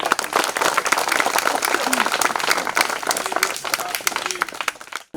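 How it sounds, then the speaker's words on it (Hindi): A political rally crowd breaks into loud applause, dense clapping running for about five seconds under a faint background voice before cutting off abruptly at the end. "जोरदार ताली"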